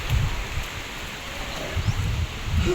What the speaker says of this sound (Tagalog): Nalakas-lakas na din po ang patak ng ulan.